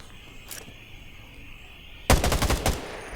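Automatic gunfire from a weapon in the video game Undawn, a loud rapid burst of several shots near the end after a quiet stretch with a faint earlier pop.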